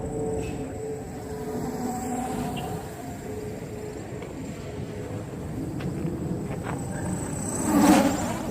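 The brushless motors of an MJX Bugs 3 quadcopter, modified with an XT60 connector and running on a 3S battery, whine steadily at a distance as it flies fast outdoors, with the pitch shifting and briefly swelling near the end.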